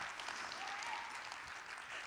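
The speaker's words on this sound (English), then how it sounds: "Give Columbus a round of applause." Audience applause at a luncheon honoring a newly inaugurated president, a steady wash of many hands clapping, heard at moderate distance and fairly faint throughout.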